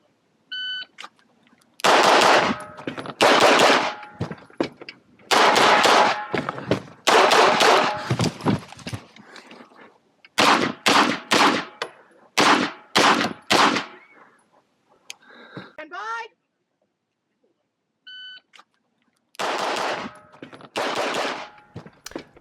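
Race-gun pistol at a USPSA nationals stage, fired in loud, sharp bursts of rapid shots with short pauses between strings, close to the shooter and with no talk over them.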